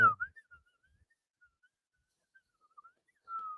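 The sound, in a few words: person whistling, breathing in and out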